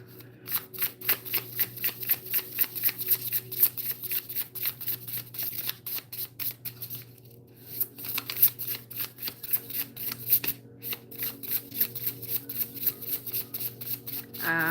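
A tarot deck being shuffled by hand, its cards riffling in quick, steady bursts of crisp flutters close up, with two brief pauses before the rhythm resumes.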